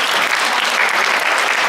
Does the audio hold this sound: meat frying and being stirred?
no